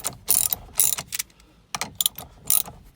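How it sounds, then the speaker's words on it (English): Half-inch ratchet cranking a steering wheel puller to pull the wheel off a 2011-2018 Jeep JK, giving quick bursts of sharp metallic clicking, close by, with short pauses between strokes and no speech. "crank it down as it pulls the wheel off"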